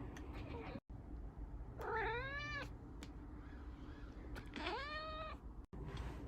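A cat lets out two drawn-out, rising-and-falling meows a few seconds apart, fairly close, over a steady low background hum.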